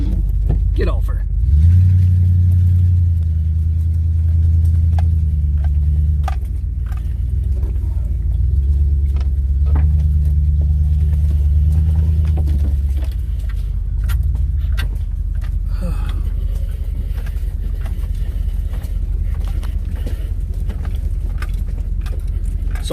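A car rolls over a bumpy road with a loud, low engine rumble and jolting thumps, plus occasional rattles inside the cabin and some indistinct voices.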